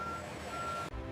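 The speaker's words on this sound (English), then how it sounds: "The delivery lorry departs the factory, carrying fresh shakes to consumers." A delivery lorry pulls away from a factory, its steady reversing beeper sounding loud and close over a low truck engine rumble in a brief burst that cuts off abruptly.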